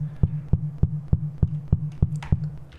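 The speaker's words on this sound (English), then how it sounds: "I will show you how you can have footstep sound like this" Ten evenly spaced thudding video game footsteps in a steady walking rhythm over a low hum, with a few brighter clicks near the end, made in Unreal Engine.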